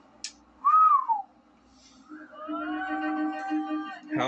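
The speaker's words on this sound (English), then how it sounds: "Cody whistled." A man whistles, a short rising-falling note followed by a longer sustained whistle, close and clear in a quiet room.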